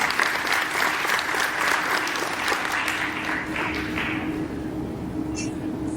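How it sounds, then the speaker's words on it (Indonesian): A seated audience at a business talk applauds loudly and continuously, dense crowd clapping that tapers slightly toward the end. "Tepuk tangan lo Bang Eva."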